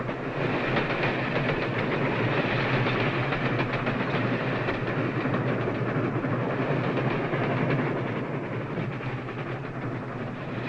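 A train runs along its rails in a 1944 film, a continuous rumbling rattle with faint rhythmic clatter of the wheels, steady and moderately loud with no talking over it.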